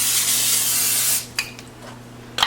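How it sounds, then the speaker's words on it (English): A can of butter cooking spray hisses in one steady burst of about a second onto a foil-lined baking pan, followed by a couple of faint clicks and handling sounds. "I am going to spray my pan with just some of this butter spray"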